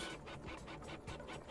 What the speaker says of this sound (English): let's start this printer since we do want a thing going